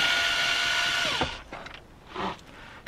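A power tool whirs steadily as it backs out the first screw on a Toyota FJ Cruiser dashboard panel, then winds down and stops, followed by a few faint handling noises and a short second buzz.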